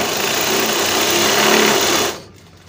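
A sewing machine runs steadily while doing Pathani suit stitching, a loud continuous whirring motor hum that stops abruptly near the end.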